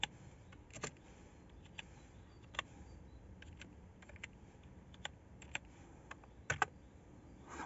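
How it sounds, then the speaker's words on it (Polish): Soft, close keystrokes on a computer keyboard as a password is typed into a terminal on a twelve-year-old computer being set up with Linux, scattered clicks and short bursts against a quiet background, with no talking. "hasło już wpisałem"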